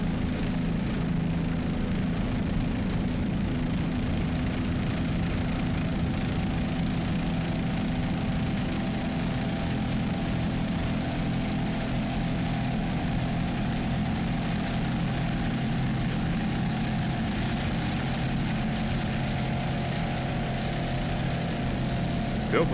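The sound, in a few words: offshore racing powerboat engine going around the turn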